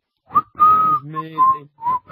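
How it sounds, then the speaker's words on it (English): A person whistles a short melodic phrase from The Great Escape theme, several clear notes close by, with breathy breaks between them. "I'm whistling the tune from The Great Escape."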